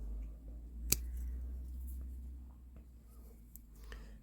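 A single crisp snip rings out as a penstemon stem is cut just above a leaf node, one short sharp click against a quiet, steady background hum.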